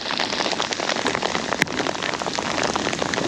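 Heavy rain pours down steadily at a motorcycle campsite, a dense continuous hiss of drops hitting surfaces close by, with one brief sharper tap partway through.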